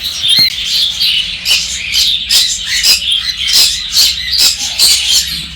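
Healthy, active pet birds in a cage chirping and squawking in quick repeated bursts, loud and close, with a rhythmic series of sharp calls over a faint background hum.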